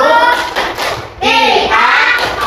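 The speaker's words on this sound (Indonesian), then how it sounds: "kasih tepuk hebat untuk kelompok Al-Khabir" A class of children claps and cheers together in an Islamic religious education classroom, a dense burst of close applause with lively young voices calling out over it, briefly dipping before swelling again.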